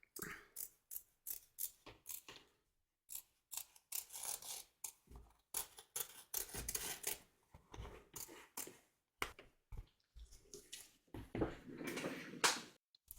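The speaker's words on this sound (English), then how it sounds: "taking care not to cut any stitches, cut around the edge and free your work" Scissors snip around the edge of a hoop to free machine-embroidered fabric, cutting close to the stitching with a steady series of crisp, close blade closures. Short pauses fall between runs of cuts, and no voice is heard.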